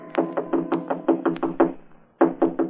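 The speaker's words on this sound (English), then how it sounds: "It was almost 3 in the morning when Andy knocked on my apartment door." In a radio drama, knuckles rap on an apartment door in a quick series of about nine even knocks, then a short pause and three more, close and fairly loud.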